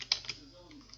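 Typing a command on a computer keyboard in Windows 10: a few quick, close key clicks, soft and sparse, with a quiet gap between the first taps and the last.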